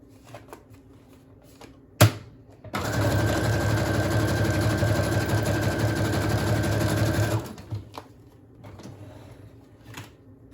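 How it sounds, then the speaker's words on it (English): A sewing machine stitches a paper journal flap, its needle running in one steady, fast, close burst of about five seconds, with a sharp click before it starts and soft handling sounds after it stops. "I'm going to sew this to the flap then"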